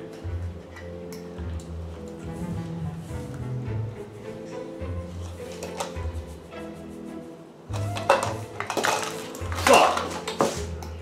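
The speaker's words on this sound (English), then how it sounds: "Now you mix the vanilla in there." Vanilla being stirred into pecan pie filling in a bowl, with utensil clinks and scraping against the dish, growing louder and busier toward the end, while someone talks throughout.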